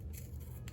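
A single close snip of scissors cutting through a planner sticker sheet for a Hobonichi Cousin planner, brief and quiet with no talking.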